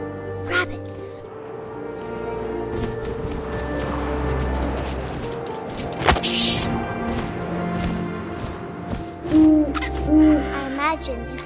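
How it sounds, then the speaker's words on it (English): Owl hoots sound in the video game What Remains of Edith Finch, several repeated calls over a layered ambient bed of wind and low tones, with a few thumps and a rising burst near the end. "And suddenly, I was an owl."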